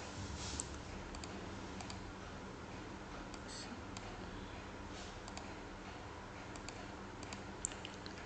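A computer mouse and keyboard while a PowerPoint slide is edited. Scattered faint clicks and taps sit over a steady low background hum.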